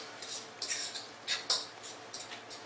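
Corn being mixed in a cooking pot with a utensil after two cans of corn and seasoning go in, heard as soft, irregular scraping and clinks, a few brief strokes close by.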